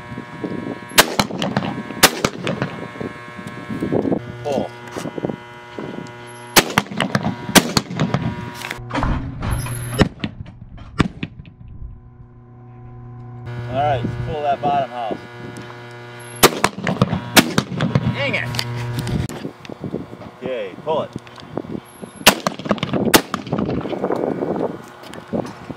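An 1889 Remington shotgun fired with black powder loads on a skeet field, with several loud, booming shots spaced across the clip and open outdoor ambience with hum between them.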